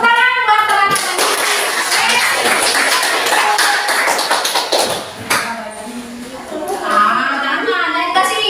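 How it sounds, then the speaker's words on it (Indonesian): Children in a classroom clap for their classmates, a dense patter of small hands close by, with a teacher and kids talking over and around it. "Tepuk tangan buat teman-teman."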